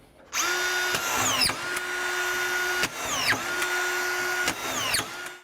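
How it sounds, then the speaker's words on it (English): A DeWalt cordless drill drives screws in forward, its motor whining loudly and steadily in several long bursts broken by brief clicks and pitch dips, close up and without talk. "so we're driving the screws in, we need to go forward, and away we go"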